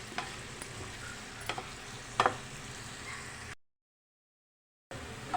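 Turmeric frying in a pan with curry leaves for mutton gravy curry, a soft steady sizzle with a few stirring scrapes and clinks, cutting out briefly into silence before resuming.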